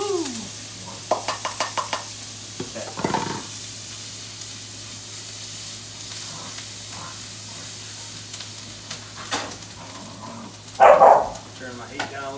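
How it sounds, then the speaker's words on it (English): Onions being stirred in a hot pan for chicken risotto, a soft sizzle with scraping stir strokes and clinks, then a brief loud burst of spitting near the end; someone speaks occasionally over the cooking. "Now we're going to put our onions in there."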